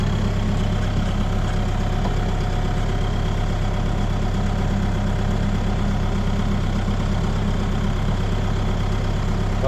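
A vehicle engine idling after a flat left rear tyre, a loud steady low rumble with an even throb, continuous and close, with no talk.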